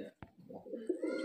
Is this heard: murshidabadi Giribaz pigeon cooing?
yes